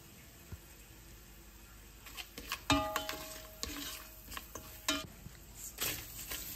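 Cardamom and cinnamon fry in ghee with ginger paste, salt and bay leaf, a faint soft sizzle broken by a series of metallic spoon clinks and scrapes against the pan.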